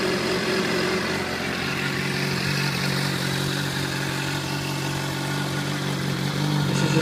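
A 2013 Honda CBR600RR ABS sport motorcycle idles after a start. The engine gives a steady, loud, even hum and burble that runs without pause or change in pitch.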